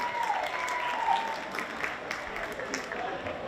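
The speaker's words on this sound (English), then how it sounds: "round of applause for everything that's going on here tonight" Applause from the audience at a country music awards show, steady moderate clapping heard from some distance, with faint crowd voices and talk mixed in.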